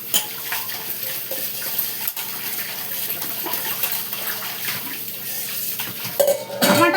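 Fried broad beans clatter as they are scraped from a pan into a bowl in a home kitchen, with steady metallic scraping and clinking of utensils and dishes, plus a brief louder clang near the end.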